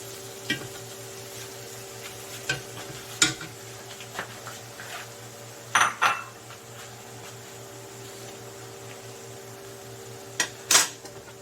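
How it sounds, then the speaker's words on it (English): A ladle scrapes and clinks against a pot of guajillo sauce in a kitchen, a handful of sharp metallic taps and scoops spaced out over a low steady hum. "Finally ladle it off on top."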